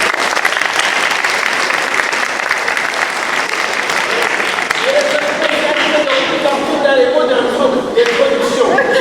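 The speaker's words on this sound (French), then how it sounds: "Vous pouvez l'applaudir aussi." Sustained applause from a crowd during a Catholic Mass fills the space, steady and dense throughout, with a brief voice surfacing near the end.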